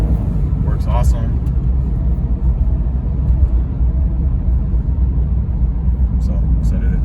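A 2005 Jeep Liberty cruising on cruise control at about 40, with a steady low road and engine rumble filling the cabin throughout and a few faint higher rattles riding on top.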